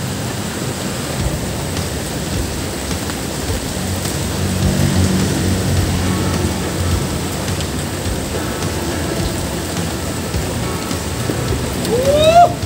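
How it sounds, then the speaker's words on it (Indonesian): Steady rain pours down by a river in a dense, continuous hiss, loud and close, with a faint rising whistle near the end. "Hujan-hujan mantap."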